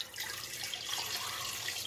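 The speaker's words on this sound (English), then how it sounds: "Constance, go ahead and pour in the juice first" About a cup of Concord grape juice pours into a blender, a steady close splashing stream of liquid lasting a couple of seconds.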